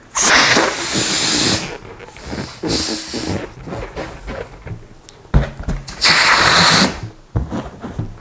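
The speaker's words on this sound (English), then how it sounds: "releasing a little bit of air while pressing down on the balloon so I get a more round shape" Air hisses out of a balloon being pressed down for a rounder shape, several loud breathy bursts of rushing air separated by quieter rubbery squeaks and handling sounds, close up.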